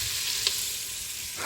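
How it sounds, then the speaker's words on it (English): Onions sizzle steadily in hot bacon grease, a close, even hiss of frying with a faint scrape of stirring, and no voice over it. "so we're just sauteing the onions here for a minute in this beautiful bacon grease"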